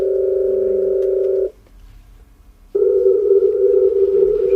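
Pure sine tones sliding down and then back up in a glissando, loud and clean, broken by a short near-silent gap before the tone returns, with no talk.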